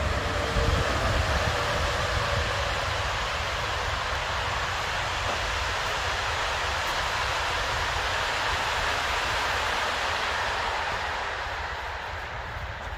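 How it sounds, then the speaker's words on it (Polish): A train passes nearby, a loud steady rumble and rushing roar that holds for several seconds before slowly fading. "Zdaje się, że mamy pociąg."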